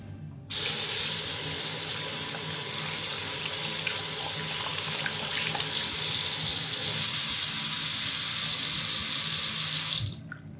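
Tap water runs in a steady, close stream for about ten seconds, splashing into a sink with a slight shift in flow partway, then abruptly stops.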